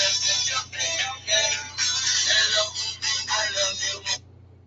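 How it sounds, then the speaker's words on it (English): A loud phone ringtone plays a bright synthesized melody in repeated pulses for about four seconds, then cuts off abruptly. "Sorry, that's my ringtone."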